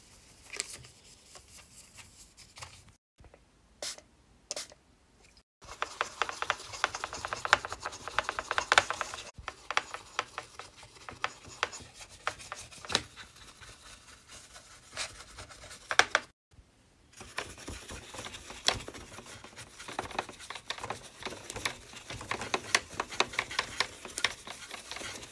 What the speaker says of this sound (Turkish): klavyenin içinde ayrıntılı olarak güzelce temizleyeyim bütün tuşlarıyla beraber